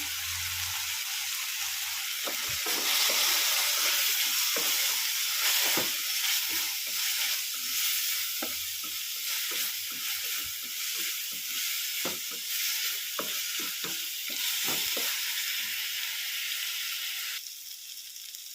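A constant crackling sizzle of frying in a pan fills the clip, with soft scraping stir sounds scattered throughout and no talking.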